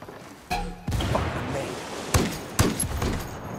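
Frag grenade blasts in the video game Ghost Recon Wildlands: several heavy thuds and bursts, two sharper cracks later on, over a constant rumbling battlefield background.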